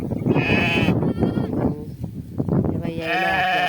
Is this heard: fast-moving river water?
no